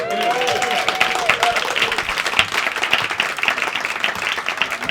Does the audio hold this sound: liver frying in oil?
no